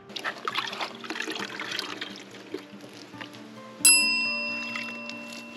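Water trickles and splashes from an off-grid shower inside a van parked in the woods, a steady broadband patter with a few bright metallic pings and a sharper clank near the end.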